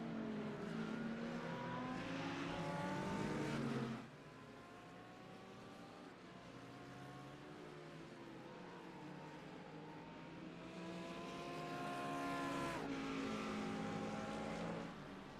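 Faint, continuous engine whine from GT3 and GTP race cars lapping VIR in a racing video game, with rising and falling revs as cars pass and shift gears, and no talk.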